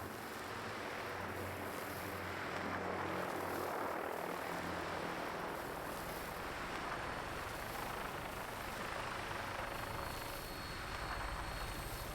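An aircraft taking off in the video game Fallout 4, a steady loud engine and rotor roar that holds at an even level throughout, with no one speaking.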